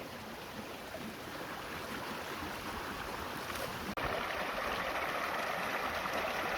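Steady broadband rush of a brook flowing on Dartmoor, draining from marshy, boggy peat ground, running continuously at close range with no voices, apart from one brief click midway.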